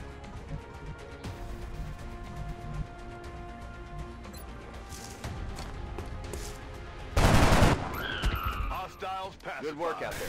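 Flanking gunfire against a Sectoid in the video game XCOM, heard as scattered sharp shots and one loud burst of impacts midway, followed by alien-sounding warbles and clatter, with game voices faintly underneath.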